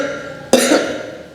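A single sharp cough bursts out close by after a brief quiet stretch, then trails off.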